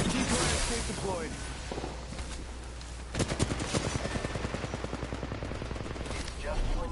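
Gunfire in Apex Legends: a burst of shots early on, then a long, rapid stream of automatic fire from mid-clip onward, close and loud, with voices talking over it.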